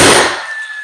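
A nail gun fires once into a laundry wall under construction, driving a nail at an angle into excess holes; a single loud, close crack with a brief ringing tail that fades within a second.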